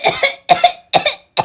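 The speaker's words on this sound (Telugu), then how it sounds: "అత్తమ్మ దగ్గుతున్నారు" A woman coughs deliberately in four sharp, forced bursts, each a quick double cough separated by brief silences, close and loud with no other sound.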